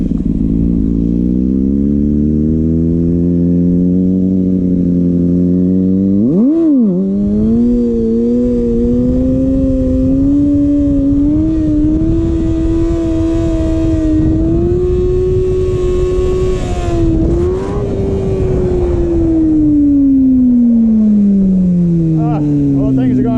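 A Kawasaki ZX6R motorcycle being ridden, its engine droning loudly and close at steady mid revs with one quick throttle blip and a gentle rise and fall in pitch, plus continuous wind rush.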